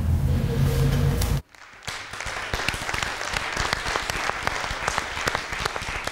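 A crowd bursts into loud applause at an event, then, after a brief lull, sparser, crisper clapping continues from nearby hands.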